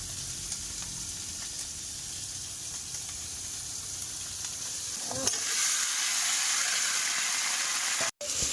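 Chopped onion and five-spice seeds fry in hot oil with a steady sizzling hiss. Partway through, a fresh addition or a stir sends the sizzle louder and brighter, and a brief cut follows near the end.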